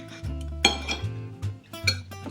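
Knife and fork clink and scrape against a plate while cutting into a cooked stuffed red pepper, a few close, light metallic taps and scrapes with no talking.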